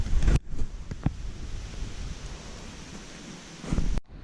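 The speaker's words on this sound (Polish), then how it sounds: "pogoda się wybrała, pada deszcz" Soft, steady rain hisses in a forest, with a few dull thumps and bumps close by at the start and end.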